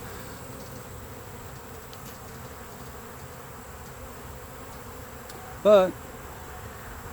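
A honey bee swarm moving into a new home gives a steady, dense buzzing hum that fills the whole stretch, with one brief spoken word near the end.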